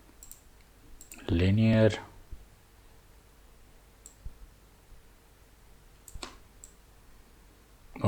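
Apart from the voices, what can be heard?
computer mouse clicking in Figma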